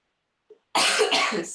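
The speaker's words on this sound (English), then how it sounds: "I'm talking about my cough." One harsh, close cough bursts out after near-silence and a tiny throat sound, during a Pilates class session.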